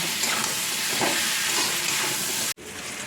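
Vegetables sautéing in a pan for a katla fish curry with green mango, a steady broadband sizzle and hiss with light stirring scrapes, cut briefly by a short gap near the end.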